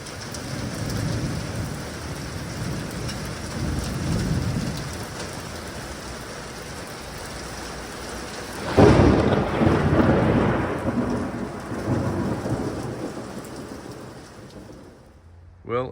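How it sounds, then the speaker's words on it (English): Heavy rain pours steadily outdoors while a loud thunder crash breaks in midway and rumbles on for several seconds before the storm noise settles back to a steady downpour. "Thunder's getting a bit loud."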